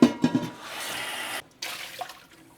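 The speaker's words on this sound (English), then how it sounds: "We're rinsing out the original pot that we used." Water rinsing out a cooking pot at a sink, a few quick splashes and then a steady rushing pour that cuts out briefly and resumes, close and fairly loud, with no talking.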